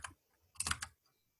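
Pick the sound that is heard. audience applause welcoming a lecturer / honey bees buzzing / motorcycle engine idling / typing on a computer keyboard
typing on a computer keyboard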